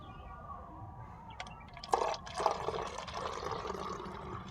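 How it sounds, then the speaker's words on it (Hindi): Water being added to a roughly one-litre bottle already holding reddish water gives a soft, faint splashing pour that swells midway and carries on as a steady trickling wash. "इसी में मैं जो है कुछ और पानी ऐड कर लेता हूँ"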